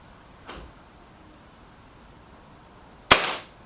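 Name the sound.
Reximex Lyra K carbine air rifle shot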